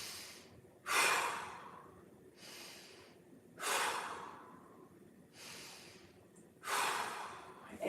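Slow, deep breaths come close to the microphone during a seated mobility twist stretch, four loud breathy exhales spaced evenly a few seconds apart, with quieter inhales between them.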